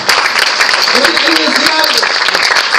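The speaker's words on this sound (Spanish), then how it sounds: "Me den un aplauso al Señor," A church congregation applauding during a Sunday service, loud and close dense clapping over a sustained hum, with voices mixed in.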